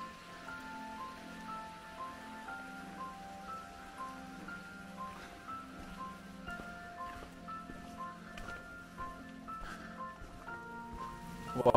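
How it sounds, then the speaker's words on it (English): Rain falls steadily on a winter mountain hike up Mailbox Peak, a soft, fairly faint patter and hiss that continues without a break, with a few louder drops and rustles near the end. "the rain kind of really kicked in. Yeah, now it's like, it's not light rain anymore."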